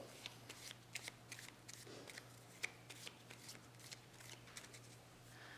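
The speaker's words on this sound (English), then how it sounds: "Shuffle them back up." Soft, repeated riffling and snapping of playing cards being shuffled, close and quiet, with a steady low hum underneath.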